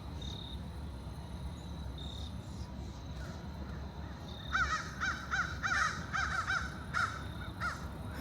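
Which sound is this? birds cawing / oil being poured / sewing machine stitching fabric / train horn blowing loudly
birds cawing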